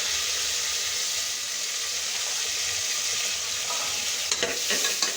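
Onions frying in oil in a pan for prawn biryani give a steady, close sizzle, with a few scraping stirs near the end and no voices.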